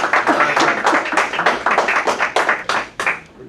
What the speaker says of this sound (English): Give him a round of applause, Minister Ishmael Muhammad, as he comes.